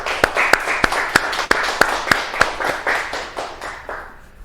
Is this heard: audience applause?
yes